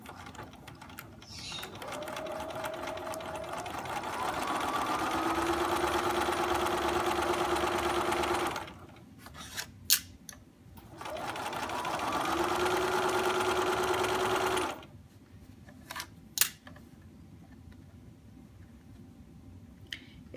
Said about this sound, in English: So I'm just going to stitch a couple and then backstitch.